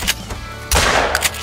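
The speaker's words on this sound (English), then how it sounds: "May have shot it too many times" Gunfire while hunting in the game Call of the Wild, on the Revontuli Coast: a few sharp shots, the heaviest burst in the middle, then a couple of lighter cracks near the end.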